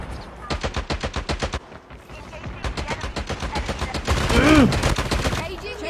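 Rapid automatic gunfire in a battle royale style video game, several loud bursts of evenly spaced shots with brief pauses between them, with a voice speaking over the later part.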